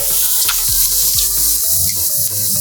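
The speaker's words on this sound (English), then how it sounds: "Go in a pan, listen to the sizzle." Meat sizzles in a very hot, smoking pan, a loud continuous crackling hiss with a few bumps and knocks of handling, close and alone.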